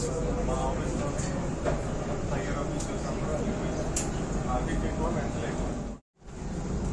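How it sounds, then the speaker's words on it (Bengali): A steady, loud rumble and rattle of a Dubai tram ride near Marina Towers, with faint squeaks over the continuous rolling noise and a brief dropout near the end. "আমরা দুবাইয়ের ট্রামে আছি"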